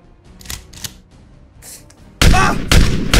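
A gunshot-style sound effect produced by a spray can gag, heard as a sudden loud burst of hissing spray that starts partway through and continues in heavy pulses, following quieter clicks and rustles.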